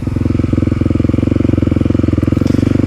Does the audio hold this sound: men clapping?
no